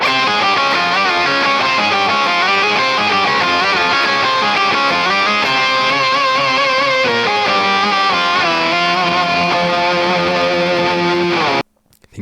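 A PRS Custom 24 electric guitar played through a Quad Cortex Octo Lead preset with octave-up and octave-down effects, a loud sustained lead melody with thick octave layering that stops abruptly near the end.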